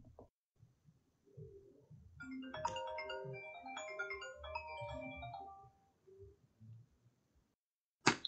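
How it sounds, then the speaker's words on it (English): A mobile phone ringtone plays a melodic, chiming tune of stacked tones for several seconds at moderate loudness, with soft background rustling before and after. "That was my phone."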